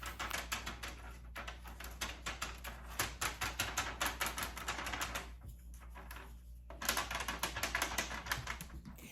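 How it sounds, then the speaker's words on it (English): A wooden stick rubbing a furniture transfer onto the side of an antique hutch, giving quiet, rapid scratchy strokes in steady bursts with a couple of short pauses, close and dry. "here's what it sounds like when I apply a furniture transfer"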